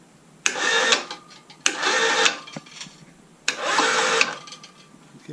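Electric winch hoisting an engine on a DIY temporary mini gantry: three bursts of motor whir, each lasting about half a second to a second, separated by quiet pauses, close and fairly loud.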